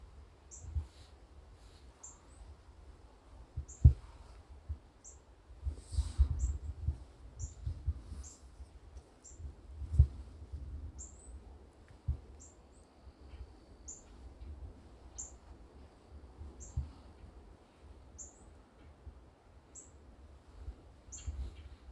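A red bird calls outdoors in wintry weather with short, high chirps repeated at a steady rhythm throughout, faint against a low background rumble with occasional soft knocks.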